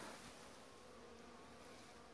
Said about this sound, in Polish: Pierwszy oblot pszczoły w 2017.